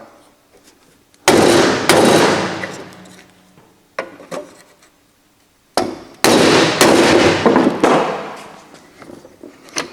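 Two heavy hammer blows land on a wooden block over metal, each a loud, sharp crack followed by a ringing decay, with light taps between them.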